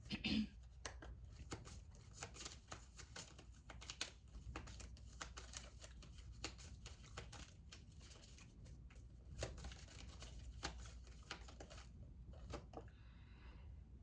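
A tarot card deck being handled and shuffled at close range, with dense, irregular papery clicks and riffles that continue steadily throughout.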